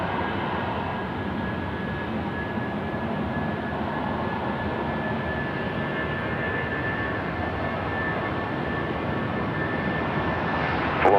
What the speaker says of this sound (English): Jetstar aircraft on the runway vacates, rolling out and departing.